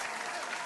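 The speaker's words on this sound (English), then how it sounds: "Let's give a round of applause for her bravery" A brief burst of crowd applause, steady dense clapping from many hands, fairly faint and distant.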